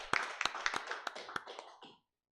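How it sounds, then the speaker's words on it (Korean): A church congregation at a Sunday worship service gives a short round of applause, a few sharp claps building into a brief ragged patter that fades out within two seconds. "하나님께 영광의 박수 돌려드리겠습니다."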